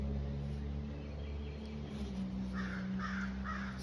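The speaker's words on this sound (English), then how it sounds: "I feed all the birds in the neighborhood, including the crows" Crows in a neighbourhood cawing, a few harsh repeated caws in the middle distance over a steady background hum.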